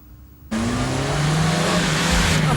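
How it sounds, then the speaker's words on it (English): A car arrives, its engine noise rising abruptly from a quiet background and holding loud and close as a steady drone with a slight descending tone, no talking heard. "It's Anna's car"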